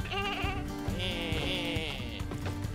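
Sheep in the co-op building game Lumberhill bleat repeatedly in long wavering calls that overlap one another, loud and close over a steady backdrop of game music.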